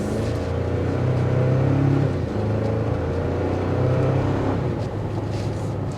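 A 2024 Toyota Tacoma SR5 pickup accelerates with a continuous loud engine drone whose pitch rises and shifts between gears, with road and wind noise underneath and no talking.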